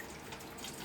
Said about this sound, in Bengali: জল দিয়ে ধুয়ে দিব